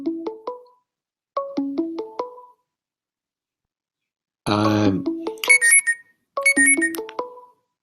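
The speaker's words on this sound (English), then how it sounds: "sorry about my phone going off." A phone alarm goes off during an online seminar, loud with no talk: short rising electronic beep runs repeat in bursts, then a buzzy vibrating tone joins higher chiming notes before the melody repeats.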